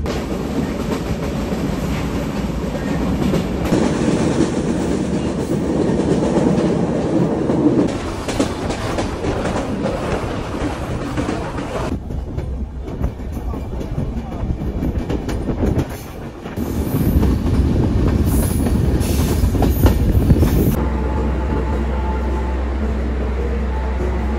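The Kapotaksha Express rolls steadily along the rails near Jashore station, a continuous loud rumble with faint clickety-clack and occasional wheel squeal, dipping briefly before surging again.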